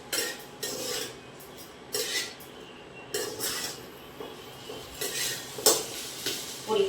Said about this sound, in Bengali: জাস্ট অল্প করে ভাজা ভাজা করে নেব।